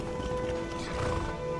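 Hooves clop close by as a horse moves and snorts in the fantasy game Skyrim, a short busy burst of hoofbeats over steady in-game ambience.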